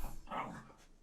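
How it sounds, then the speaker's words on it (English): Bailey the dog lets out a single short, soft vocal sound, more a muffled bark or whine than a full bark, close and faint, lasting under a second. "Dog."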